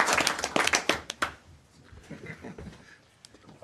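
A small group at a council meeting claps for two visiting chartered accountants, a short burst of distinct hand claps over about a second and a half that quickly thins out into quiet room noise and scattered taps.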